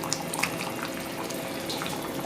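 Continuous bubbling and gentle popping of pav bhaji gravy boiling in a pan on a gas stove, close and steady, with no talking.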